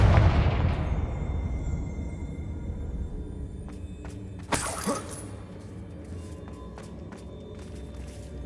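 In the Hogwarts Legacy video game, a Confringo blasting spell bursts into a sudden crackling explosion with shattering debris, rising out of a low rumbling background and trailing off into scattered clicks.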